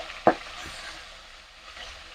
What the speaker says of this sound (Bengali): আর এদিকে কিন্তু আমাদের সিম ভাজাটা কিন্তু অলরেডি হয়ে এসেছে।